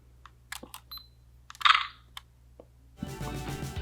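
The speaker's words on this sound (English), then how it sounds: "That little shutter sound effect is just does something to my brain chemistry." Toy-like shutter of an old compact digital camera: a few soft clicks, then one bright electronic shutter chirp close by, followed by a louder burst of low handling noise.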